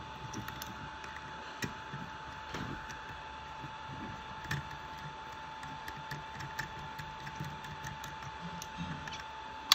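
A small screwdriver drives a screw into a Mavic Air drone controller during a port board repair, giving faint ratcheting clicks and light mechanical ticks over a steady electronic hum.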